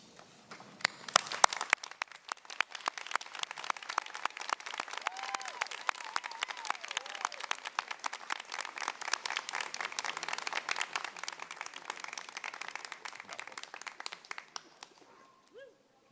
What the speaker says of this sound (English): I will ask the faculty to stand and applaud the graduates.